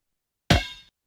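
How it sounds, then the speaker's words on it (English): A single basketball bounce sound effect from Scratch, one sharp, loud thud with a quick decay, isolated in silence. "to look for a bounce, which is the only one they have is a basketball bounce"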